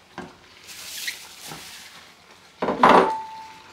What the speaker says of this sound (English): we're going to add the beef. It's all dry beef.